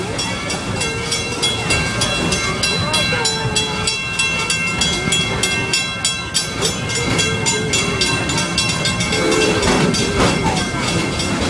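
A Busch Gardens park train rolls steadily along its rails in Florida, with continuous rumbling and rhythmic clicking wheels heard close up from aboard, loud and unbroken throughout.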